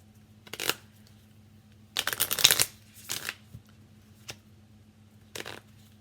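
Playing cards being shuffled in several short, crisp riffling bursts separated by quiet pauses, close up, with a low hum underneath.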